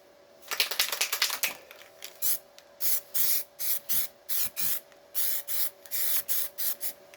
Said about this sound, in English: So our spray is very nice. It's got a nice special tip on it.